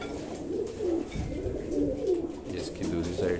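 Pigeons coo in low, repeated throaty phrases close by, several rising-and-falling calls in steady succession while someone talks.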